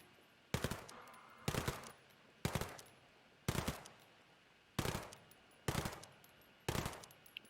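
Gunfire in Ghost Recon Breakpoint: seven sharp, loud shots or short bursts at roughly one-second intervals, each with a brief ringing tail, set against a quiet background.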